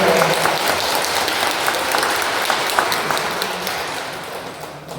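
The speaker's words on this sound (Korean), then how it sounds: "한 박수 보내주세요." Steady applause fills a Catholic parish hall during a Legio Mariae spiritual education session as a professor is welcomed, an even wash of clapping lasting about five seconds and easing slightly at the end.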